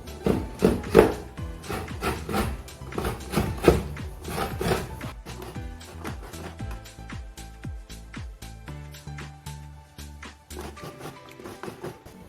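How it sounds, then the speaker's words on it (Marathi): A whole coconut is cut and scraped by hand for a Malvani mutton curry, giving repeated sharp knocks and rasping scrapes in an uneven rhythm, close and moderately loud, with no talk. "आम्ही असंच नारळ कापतो"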